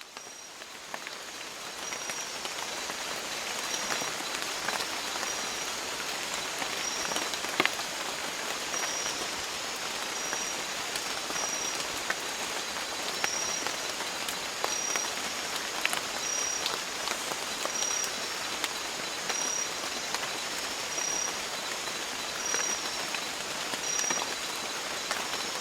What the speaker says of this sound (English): this is one of the rain recordings that I made there that's more relaxing rather than worrying or stressful or anxiety inducing.